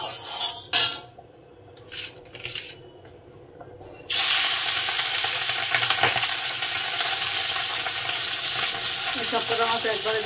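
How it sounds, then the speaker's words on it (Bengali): Small tangra fish rubbed with turmeric and salt dropped into hot oil, bursting into a loud, close, sustained sizzle after a few seconds of quieter kitchen clatter, spattering continuously to the end. "এবার মাছ কটাকে ভেজে দেব।"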